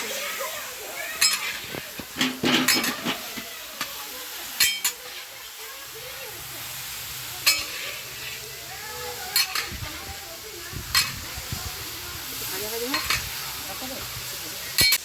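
Cumin, panch phoron and dried chili tempering sizzle in hot oil for a large batch of home cooking, a steady frying hiss under scattered stirring scrapes and clinks of a pot, with people talking nearby.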